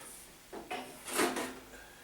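A steel cabinet drawer slides out with a faint scraping, rubbing rattle over about a second and a half, soft and close against a quiet background.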